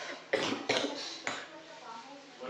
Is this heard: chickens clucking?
no